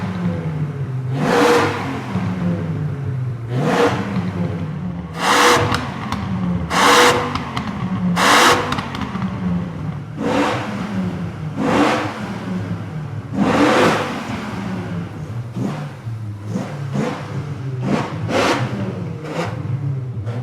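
Dodge Viper GTS with a 500 bhp 8.0-litre V10 driving along, engine rising and falling through repeated revs and gear changes, loud and close throughout with no talk.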